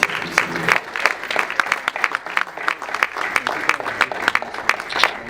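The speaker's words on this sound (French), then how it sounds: "je vais quand même demander à mes amis d'applaudir pour Félix Wazekwa" A press conference audience applauds for Félix Wazekwa, a dense, sustained burst of clapping from a small crowd, close and fairly loud throughout.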